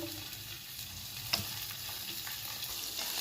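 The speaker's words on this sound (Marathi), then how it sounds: "कांदा रंग बदलेपर्यंत मोठ्या आचेवर भाजून घ्यायचा आहे।" Large-cut onion pieces frying in a little oil over high heat, a dense continuous sizzle at moderate level with soft stirring scrapes and one sharp clink near the middle.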